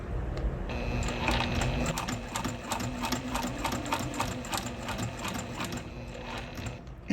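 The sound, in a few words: sewing machine stitching vinyl strap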